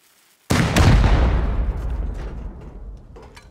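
A single loud rocket blast goes off in a Rust base raid, a sharp close impact followed by a long rumbling decay that fades over about three seconds.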